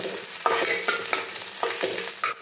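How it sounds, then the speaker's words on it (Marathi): A spice and peanut-powder mixture stirred in a pan, with a steady soft sizzle and several distinct scraping strokes of the spoon repeating at an even rhythm, close by. "यात असा थोडासा शेंगदाण्याचा कूट घालते। परत एकदा व्यवस्थित सर्व मिसळून घेते"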